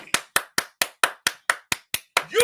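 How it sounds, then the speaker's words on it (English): A single person claps hands in a steady, even rhythm, about ten sharp, close claps spaced roughly a fifth of a second apart, with nothing else heard. "Don't let it interrupt your clap."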